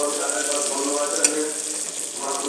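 Chilli chicken pieces frying in a pan, a short continuous close sizzle with a faint clink partway through and no talking.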